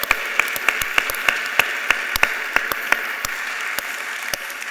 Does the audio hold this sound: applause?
yes